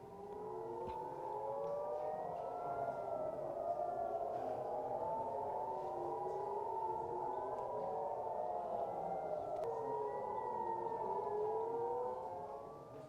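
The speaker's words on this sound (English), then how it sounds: "Sirens have sounded in Tel Aviv as Israeli occupation forces shot down 2 rockets fired from Lebanon" Civil defense sirens wailing over Tel Aviv during a rocket alert, several rising and falling tones overlapping steadily and loudly for the whole stretch, with no voices.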